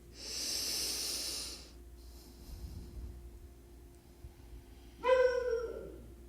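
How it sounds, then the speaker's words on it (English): A person breathes while holding a deep hip and hamstring yoga stretch with a strap: one long, close, airy exhale, then a quiet pause, then a brief high squeaky sound near the end. "Stay here, breathe."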